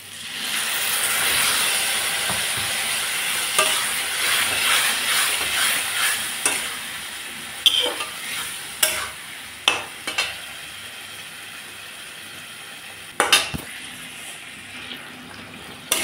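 Spice paste frying with potatoes and turnips in a pan, a loud steady sizzle at first that thins out, then scattered scraping stir strokes and clinks against the pan.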